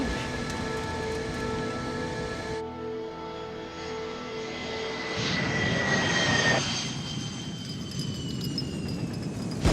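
An Avro Arrow jet fighter roars through a hard 2G turn at Mach 1.5, a loud sustained engine rumble with a whining tone that shifts and swells partway through, with no voices.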